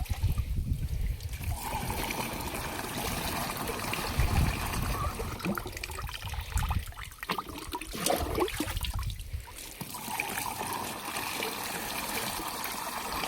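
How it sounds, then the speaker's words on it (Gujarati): Water running from a basin into a pesticide sprayer tank as it is filled for spraying a pigeon pea field, a steady trickling and splashing stream that carries on for the whole stretch with only slight swells. "પહેલાં આપણે આમાં પાણી નાખી દેવી"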